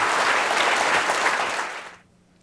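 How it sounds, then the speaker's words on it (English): An audience at a talk on Southern cooking breaks into loud, dense applause that holds steady and then fades quickly to quiet. "round of applause before we go to questions."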